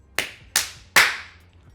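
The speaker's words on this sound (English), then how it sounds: "I had to get a good clap." A single hand clap for audio sync, repeated three times at roughly even intervals: sharp, close, loud smacks, each with a short decaying tail, over a quiet room.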